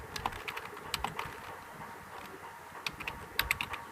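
Computer keyboard keys clicking as code is typed, a few quick irregular taps close by and fairly quiet, with no talking.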